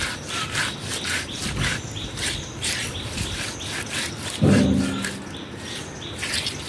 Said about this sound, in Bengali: এখন এগুলাকে আমি ঘষবো, ঘষে ঘষে চামড়াগুলো তুলবো